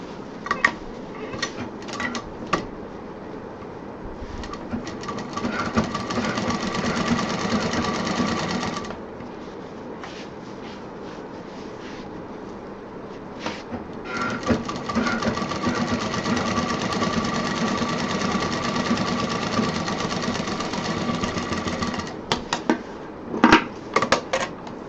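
A sewing machine stitches fabric for a DIY bag in close, loud, rapid mechanical runs, stopping for a pause partway through and then starting again, with a few clicks and handling knocks near the end.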